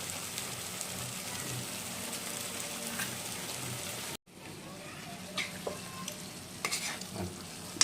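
Bengali egg curry (dim kasha) frying in a pan, finished with ground garam masala and a spoonful of ghee: a steady close sizzle with stirring scrapes, cut by a brief break, then a softer sizzle with sharper spatula clicks.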